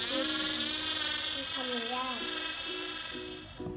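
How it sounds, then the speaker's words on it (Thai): An electric drill bores holes into a replacement fan part for an Isuzu D-Max, its high steady whine running continuously and close, with the motor pitch sagging and shifting under load as someone talks over it. "เราก็จะเจาะครับ"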